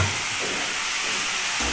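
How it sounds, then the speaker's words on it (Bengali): Spices and potatoes frying together in a pan for a fish curry, making a steady, close hiss and sizzle with faint stirring. "মশলাটাও কষানো হচ্ছে, সঙ্গে আলুটাও ভাজা হচ্ছে"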